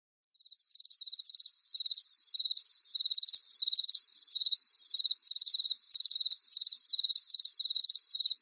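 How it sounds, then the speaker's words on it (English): Steady cricket chirping in short repeated bursts, clear and fairly close, continuing throughout with no voices. "those crickets where we would normally hear Tracy's voice"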